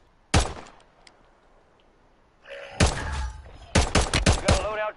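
Pistol gunfire in a shooter video game: a single loud shot, a pause, then a rapid burst of several sharp shots close by, with faint voices around them.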